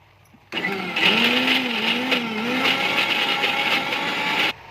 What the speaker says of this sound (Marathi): आता आपण हे मिक्सरमध्ये फिरवणार आहोत